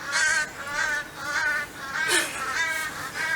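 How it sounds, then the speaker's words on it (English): Crows cawing outdoors, giving a run of loud, harsh, repeated calls at a fairly regular rhythm of roughly two per second, close by and with no talking over them. "No, they're crows, aren't they?"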